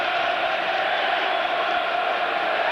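Big stadium crowd at a 1996 Coventry City versus Arsenal football match roaring and cheering in an unbroken wash of voices, loud and even from start to finish.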